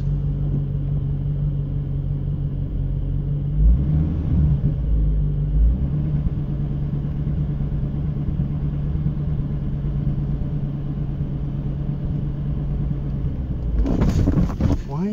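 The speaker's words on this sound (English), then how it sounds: "Let the car roll forward." A 1996 Chevrolet Corvette C4 engine holds a steady low idle rumble as the car rolls forward on the clutch. A brief surge near the start and a rougher burst at the end break the rumble, heard up close with no talk over it.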